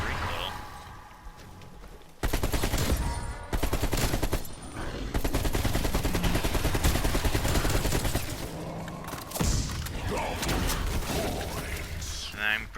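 An RPK machine gun, a modified AK-47 with a large magazine, fires in Call of Duty Cold War Zombies, unleashing loud sustained automatic bursts broken by short gaps, with game effects and occasional voice underneath.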